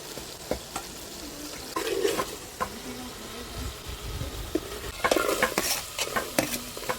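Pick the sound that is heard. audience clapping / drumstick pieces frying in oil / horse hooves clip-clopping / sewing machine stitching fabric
drumstick pieces frying in oil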